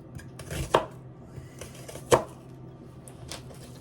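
An onion being sliced with a knife on a cutting board, two sharp close chops standing out among softer cuts, no talking.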